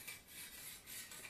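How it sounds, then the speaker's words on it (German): Knife blade drawn across a Lansky sharpening stone in forward-and-upward pushing strokes, quiet rhythmic raspy scraping repeating about twice a second, close and faint with no voice over it. "dann schleift ihr einfach wieder auf der anderen Seite, ihr schleift immer mit so einer, nach oben, mit so einer Schubbewegung"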